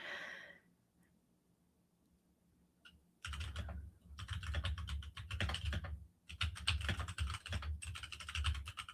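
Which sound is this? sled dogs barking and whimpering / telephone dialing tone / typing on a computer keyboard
typing on a computer keyboard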